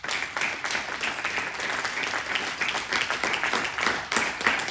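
A church congregation applauds together in sustained, even clapping that fills the room for several seconds, with faint voices underneath.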